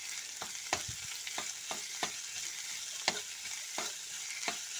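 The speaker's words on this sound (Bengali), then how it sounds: "কিমা করে মাংসটা দিয়ে দিলাম, দিয়ে একসাথে সব কিছু মাংসটাকে একটু ভালো করে নেড়ে নেব মাঝখানটায়" Minced chicken fries in a pan under a constant soft sizzle, with about a dozen sharp spatula scrapes and taps at an irregular pace as it is stirred. There are no voices.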